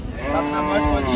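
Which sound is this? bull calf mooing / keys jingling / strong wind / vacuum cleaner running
bull calf mooing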